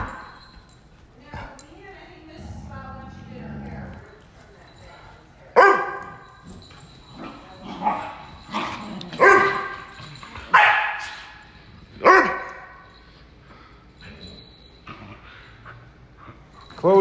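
A standard poodle barks in loud, scattered bursts while playing outdoors in Sun Valley, Idaho, with several sharp yelps standing out near the middle, and people talking excitedly around the dog.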